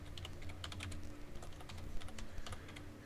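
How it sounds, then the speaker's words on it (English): Rapid keystrokes on a computer keyboard as text is typed into Microsoft Word, an uneven run of close, crisp clicks over a steady low hum, with no one speaking. "Pay attention when you're typing this"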